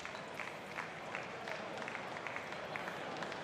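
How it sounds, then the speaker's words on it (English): Applause from an audience at a car reveal press event, a steady dense patter of many hands clapping together at a moderate distance, with no voices over it. "And of course, an applause is perfectly in order."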